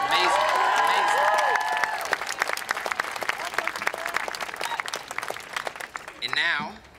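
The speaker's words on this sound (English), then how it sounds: "Another round of applause, folks." Crowd applause and cheering fill the air at an outdoor 2018 March for Our Lives rally in Washington, DC, a loud, sustained wash of clapping, with a voice over the PA at the start and again as it dies down.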